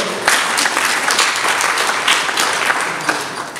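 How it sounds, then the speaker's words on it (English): A church audience at a Mother's Day service breaks into steady, loud applause that fills the whole stretch with dense clapping and no speech. "Let's give yourself a big round of applause."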